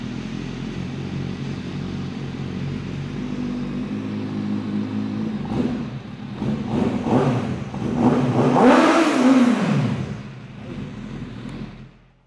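A 214-horsepower 1000cc superbike fitted with an Akrapovic carbon slip-on exhaust idles with a steady burble, then blips through several sharp throttle revs and one long, loud rising and falling rev before cutting off.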